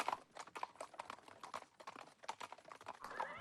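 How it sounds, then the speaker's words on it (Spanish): Horses' hooves clip-clop in a busy, overlapping patter as officers ride on horseback behind marching troops heading toward the German border in the Second World War, close and continuous with no speech. "Se dirigen hacia la frontera alemana a pie, con los oficiales detrás a caballo"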